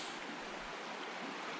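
The Deschutes River flows steadily in the evening, a soft, even rushing hiss heard alone at low volume.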